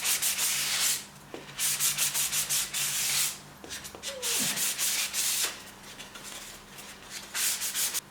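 Repeated rhythmic rubbing strokes of a sanding sponge on a wooden lamp, a close, hissy back-and-forth scrape with brief pauses between passes.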